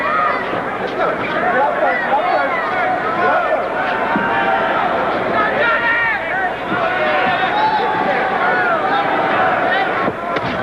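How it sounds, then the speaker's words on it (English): At a boxing match in the Summit arena, a large crowd chatters and murmurs in a steady babble under a close ringside commentator's voice. "a pretty good crowd on hand here at the Summit tonight"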